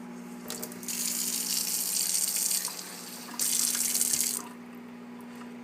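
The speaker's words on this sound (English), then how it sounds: "So I'm just going to give these a quick rinse." Running tap water splashes steadily over small Maine shrimp being rinsed in a kitchen, a hissing gush that pauses briefly midway and then resumes before stopping.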